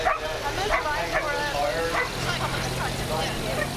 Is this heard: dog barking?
yes